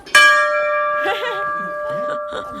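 A temple bell at Dunagiri Temple in Uttarakhand is struck once, loudly and close, its ringing tone lingering while people talk in the background.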